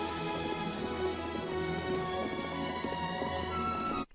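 Horse hooves clip-clop steadily and fairly close over a dense bed of orchestral film music, the hoofbeats half-masked and continuing evenly for several seconds before the sound cuts off abruptly.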